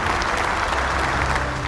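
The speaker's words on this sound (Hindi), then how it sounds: "तो जोरदार तालियों से इनका भी स्वागत कीजिए।" Audience applause welcoming a church parish team at a national family Bible quiz semi-final, a steady dense clapping that carries evenly through the whole stretch with no voices over it.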